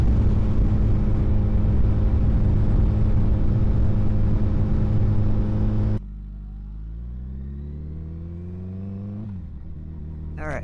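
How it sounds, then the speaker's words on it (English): Kawasaki Ninja ZX14R motorcycle on the road: a loud, wind-buffeted engine drone that suddenly clears into a rising whine as the bike accelerates through the gears, heard from the rider's position. "basically just gonna jump on the bike and go for a ride"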